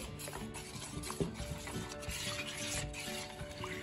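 Cornflour mixed with water is stirred for Karachi halwa, giving soft, continuous scraping and swishing strokes at close range.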